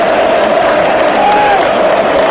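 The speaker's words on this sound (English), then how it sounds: "Applause for Gordon as he comes back to the bench" Stadium crowd at a Newcastle United versus PSG football match, a steady wash of applause and murmuring noise filling the space, with a commentator's voice over it.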